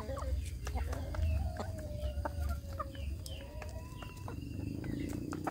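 Free-range village hens in a kampung chicken flock cluck in short, repeated calls over a steady low background, with a rooster-like call mixed in and some speech faintly present.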